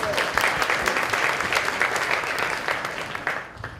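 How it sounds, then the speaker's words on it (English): An audience at an economic summit panel session breaks into sustained applause, many hands clapping in a thick, even roar that fades slightly at the end. "Let's give Cindy a big round of applause."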